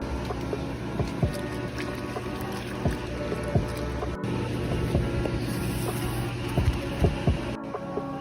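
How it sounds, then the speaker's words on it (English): Air Jordan 11 Snakeskin sneaker being scrubbed with a brush and cleaning solution, a steady close rubbing and wet bristle texture broken by scattered soft knocks and taps, with no talking. "Go ahead and get your solution of choice and start going crazy on the shoe."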